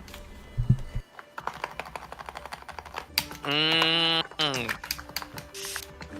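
Rapid clicking keystrokes on a computer keyboard rattle in quick irregular bursts, close and clear. Voices talk over and between the typing.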